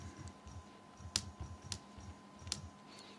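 Typing on the on-screen keyboard of an HTC Flyer tablet gives soft, faint, irregular taps and a few sharper clicks over a low background hum, with no talk.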